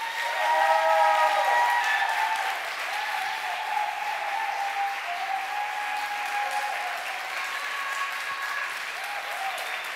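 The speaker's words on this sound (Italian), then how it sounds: "siamo già pronti per l'ultimo applauso" Audience applause at a live talk event, a sustained steady wash of many hands clapping in a hall, fairly loud and continuous throughout without talk over it.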